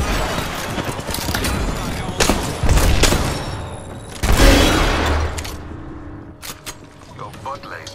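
Bursts of gunfire and booming impacts in a battle-royale arena match, loud and close, coming in several clusters with short gaps, fading toward the end as a few sharp pops remain.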